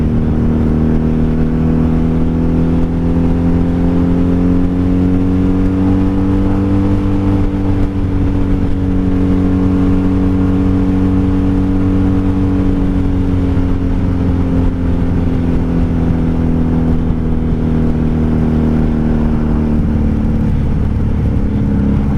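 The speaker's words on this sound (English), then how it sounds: "Just like with any bike, loud motorcycle" A loud 1997 Honda Magna VF750C motorcycle engine drones steadily at highway cruising speed, with constant wind rush, its pitch drifting slightly up and down over a long stretch.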